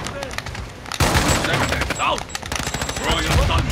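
A shotgun fires in a first-person military shooter game, with a loud burst of blasts and rapid gunfire that starts sharply and continues over busy battle noise and game voice chatter.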